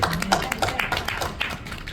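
A church congregation claps together after a hallelujah, a run of light, quick claps spread across the room at moderate volume with faint voices underneath.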